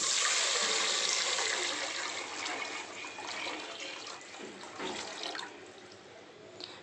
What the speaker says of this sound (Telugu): బాగా వేగిన తర్వాత దీనిలో మనం సరిపడంత వాటర్ పోసుకోవాలి